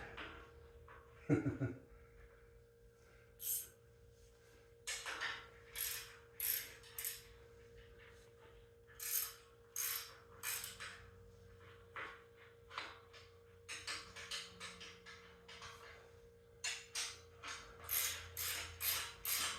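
A ratchet wrench loosens bolts on a hot rod under construction, sounding as bursts of rapid clicking pawl strokes separated by short pauses, fairly close in a quiet garage.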